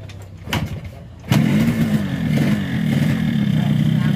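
A rebuilt Yamaha RX-King two-stroke motorcycle engine kicks into life after a few quieter attempts, then settles into a loud, steady, slightly rough idle close by.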